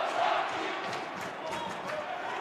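Hockey arena crowd at a men's college Division II game chants in unison, a dense roar of voices with rhythmic swells carrying over the noise of the rink.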